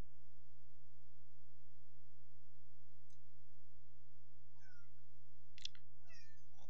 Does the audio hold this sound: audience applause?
no